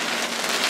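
Small hailstones and rain patter steadily on a vehicle during a Nebraska tornado storm, a dense, close, continuous rattle over the brief moment with no talking.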